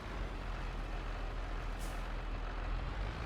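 Tractor air brakes in Farming Simulator 22 give a steady, loud broadband hiss with a low engine rumble underneath, a brief brighter burst of air near the middle.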